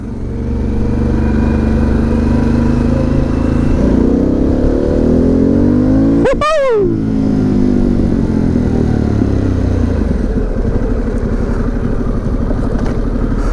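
A Harley-Davidson Pan America motorcycle engine drones loudly and steadily on an open road, its pitch sweeping up under acceleration, with a sharp revving burst and rapid shift in the middle before settling back into a sustained roar.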